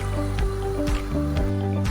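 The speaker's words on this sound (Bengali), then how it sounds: "এবার আমি এর মধ্যে ভিজিয়ে রাখা চালগুলো দিয়ে দেব।" Soaked rice is tipped into hot water, making a few soft, wet plops and sloshes in quick succession, close and moderately loud.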